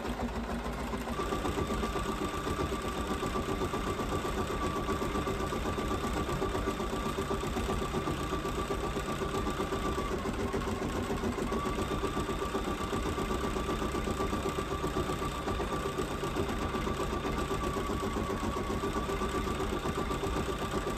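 Embroidery machine stitching an in-the-hoop zombie face mask, a steady mechanical hum with a faint whine and rapid needle chatter running continuously and evenly throughout, close and alone with no talk.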